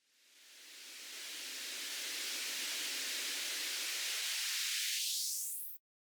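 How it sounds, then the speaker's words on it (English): A white-noise riser for a hip-hop beat swells steadily over about six seconds, brightening and climbing in pitch, then cuts off abruptly, heard alone. "Next I added a riser."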